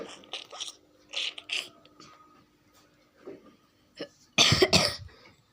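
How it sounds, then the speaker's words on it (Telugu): A person coughing: after a stretch of soft clicks and mechanical rattles, two harsh, loud cough bursts break out close by near the end. "దగ్గు వస్తుంది, విన్నారు కదా నాకు ఎలా వస్తుందో దగ్గు"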